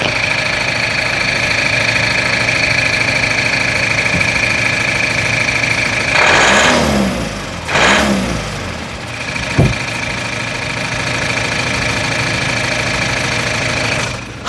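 Diesel engine of a 2017 Mazda CX-5 idling close up with a steady clattering drone, briefly blipped twice in the middle before settling back, with a sharp thump near the end.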